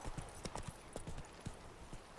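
Hooves of Geralt's horse Roach in The Witcher 3 clip-clop in a quick, uneven galloping rhythm, close but fairly quiet.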